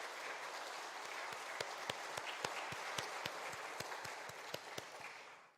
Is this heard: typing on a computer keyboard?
no